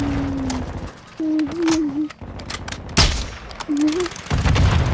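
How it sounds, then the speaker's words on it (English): An incendiary round fired in a shooter video game, one sharp loud crack standing out among other gunshots, with tonal voice-like calls before and after it. "Headshot with incendiary round"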